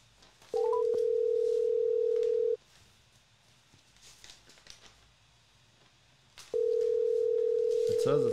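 A phone call's ringing tone sounds twice as a steady electronic tone, each lasting about two seconds, loud and close, with a quick rising beep at the start and faint murmuring between the tones.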